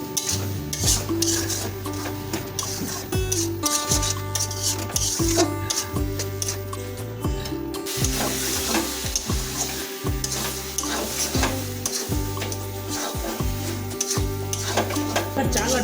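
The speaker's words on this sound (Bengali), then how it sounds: "এটাকে এখন আমরা আরো মিনিট 3 ধরে লো ফ্লেমে কষাতে থাকবো।" Rice, lentils and chopped tomato for chicken bhuna khichuri sauté in a pan over a low flame, with a continuous sizzle and regular, rhythmic scraping strokes of a spatula against the pan bottom.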